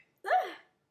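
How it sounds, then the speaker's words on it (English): A single sharp hiccup from a person eating a corn dog, a short breathy burst heard close and alone against silence. "I have hiccups."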